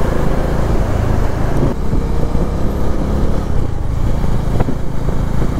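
A motorcycle rides along a road toward the village of Dajipur via Kolhapur, its engine and road rumble steady and close for the whole stretch, with no talking.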